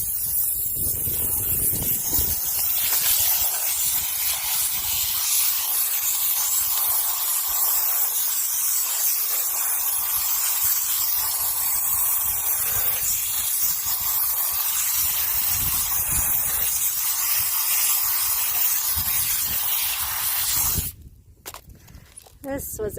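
Water sprays steadily to rinse freshly tumbled rocks, including sliced petrified wood from New Mexico, a loud continuous hiss running nearly unbroken before cutting out abruptly near the end.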